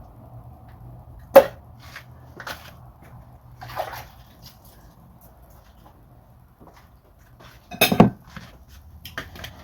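Breakfast eggs being cooked in a pan with dishes clinking: two sharp metallic clanks of cookware stand out against a quiet kitchen, with a few softer clinks and light scraping between them.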